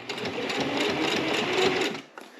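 A hand-cranked sewing machine stitches a cover for a Bible rebind, giving a steady, continuous mechanical whir that runs for about two seconds and then stops, with faint clicks after.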